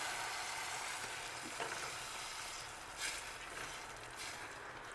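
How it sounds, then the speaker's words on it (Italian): Risotto rice simmering in broth in a pan, stirred gently, with a steady soft sizzle and bubbling throughout and light scraping of the spoon in the foreground. "e sempre mescolando dolcemente portiamo a cottura il nostro riso"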